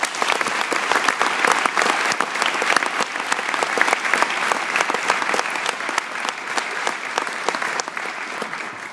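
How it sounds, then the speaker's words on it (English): Steady, dense applause from a school pep rally crowd, loud and continuous with sharp individual claps standing out, fading slightly toward the end. "let's give them a round of applause"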